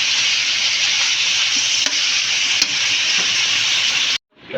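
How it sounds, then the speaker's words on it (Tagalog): Pork frying in a pan for puchero: a loud, steady sizzling hiss with faint scraping stirs, continuous up close until it abruptly cuts off near the end. "Yan po, medyo na prito-prito na yung ating baboy."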